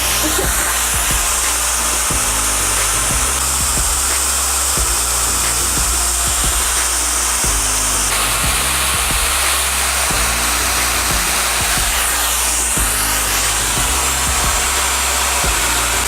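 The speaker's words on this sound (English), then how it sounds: "but not as loud as most blow dryers" A Dyson Supersonic hair dryer runs continuously at close range, a loud, steady airy whoosh with a subtle shift in tone partway through as the airflow or setting changes.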